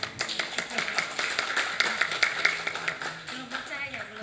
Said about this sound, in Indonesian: Kok nggak ada yang tepuk tangan ini?